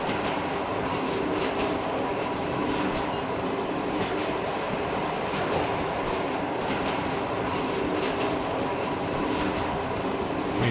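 A train in the post-apocalyptic Metro Exodus game rolls steadily along the rails, pulling an attached car, with a continuous loud rumble, rhythmic clatter and faint metallic squeal throughout, no voices.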